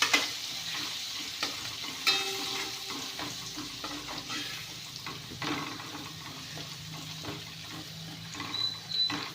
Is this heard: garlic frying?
yes